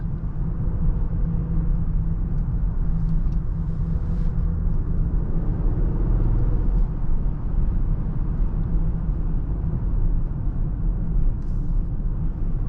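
Cabin of a 2023 Range Rover P530 SE with a V8 while driving: a steady low road and engine rumble fills the interior throughout, even and unbroken, with no talk.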